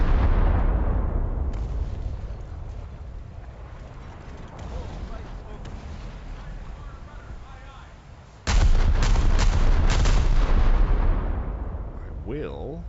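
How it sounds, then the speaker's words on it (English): Loud, continuous gunfire and heavy cannon blasts from the War Thunder combat video game, with dense booming shots throughout and an even louder burst of firing in the second half, while a voice talks faintly underneath. "I will turn down the gunfire sounds a little."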